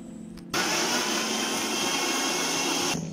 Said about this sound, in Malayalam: ഇനി നമുക്കിതൊന്ന് മിക്സിയിലിട്ട് അടിച്ചെടുക്കണം